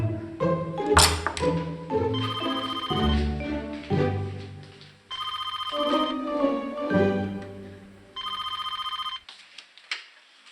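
A telephone rings in repeated bright, trilling bursts during a domestic drama scene, each burst standing out over sustained musical tones.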